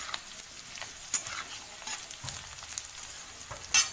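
Paneer pieces frying lightly in a pan give a soft, steady sizzle with faint crackles and a few brief stirring scrapes, close and quiet with no talking.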